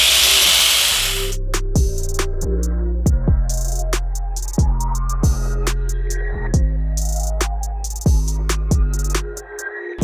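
Angle grinder fitted with a Rubí segmented diamond disc, loud steady motor whine after a brief noisy start, with repeated sharp ticks and knocks from the cut running throughout, no talking.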